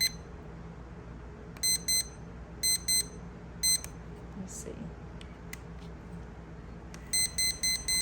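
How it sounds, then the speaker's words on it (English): Sonic Alert digital alarm clock for heavy sleepers sounding its buzzer in test mode: bursts of sharp, high beeping in double pulses, then a rapid run of beeps at the end, over a quiet hum, with a brief spoken aside. "It says the test button is used to demonstrate the buzzer and vibrator without setting the alarm."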